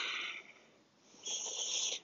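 A person takes slow, deep breaths during an outdoor yoga session, with an audible airy inhale and exhale, quiet and close.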